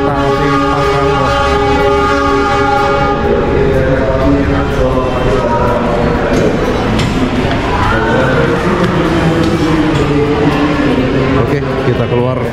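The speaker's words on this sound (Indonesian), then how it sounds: "Tuh, kereta api Pangrango." A Pangrango passenger train with its locomotive sounds a loud, sustained horn in a busy station in Bogor, the horn tones blending with engine rumble and crowd noise throughout.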